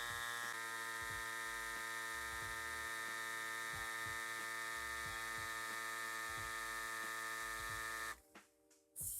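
A CYCPLUS AS2 electric pump whines with a steady, buzzing motor tone while inflating a bike tyre through a TPU valve, then cuts off near the end, leaving brief quiet.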